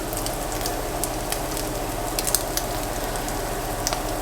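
Sausage browning in a pan as flour goes in for a gravy base: a steady, close crackling sizzle with scattered pops and spits, continuous and fairly loud throughout.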